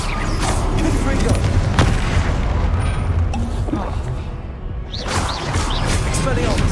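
Fire spell explosions from Confringo in Hogwarts Legacy, a dense run of booming blasts and crackling bursts over continuous loud game combat noise, with a voice speaking during the action.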